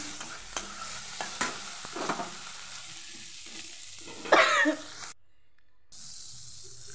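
Onion and tomato fry in a pan for a spiced Assamese bread dish, with stirring scrapes and a soft sizzle, then a brief louder hiss before a short silence.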